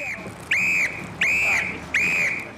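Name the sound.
evacuation whistle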